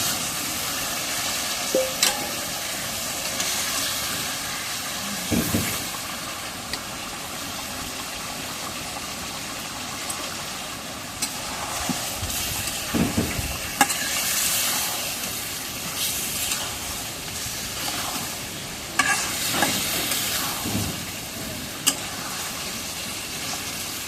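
Fish sizzle as they go into a pan of cooked-down spice paste, a steady frying hiss broken by occasional scrapes and clinks of stirring.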